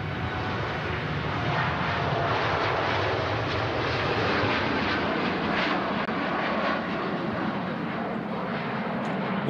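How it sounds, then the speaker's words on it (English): A TUI Boeing 787 Dreamliner takes off at Manchester Airport on a cold winter day, its jet engines a loud, steady broadband roar that fills the whole stretch with no talking. "There goes the TUI Dreamliner, and this time the gear going up straight away."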